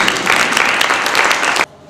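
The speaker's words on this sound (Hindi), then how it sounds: "आप सबकी भरपूर तालियों में मिसेस अंतलीन खान" An audience at a women's medical awareness seminar breaks into loud, close applause, a dense burst of many hands clapping that cuts off abruptly after under two seconds.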